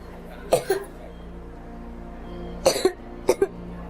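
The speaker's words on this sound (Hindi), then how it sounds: "दिखता नहीं बच्चा कितना खांस रहा है, कितनी तबीयत खराब है इसकी।" A sick child in a hospital setting coughs in three close bursts, each a rough double or triple cough separated by short pauses, over low steady background noise.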